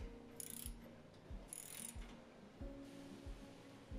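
Bolts of 8mm by 15mm are tightened with a ratcheting tool to fasten a license plate bracket onto a cargo carrier basket, giving quiet repeated clicking strokes with a few brief bursts of higher scraping noise.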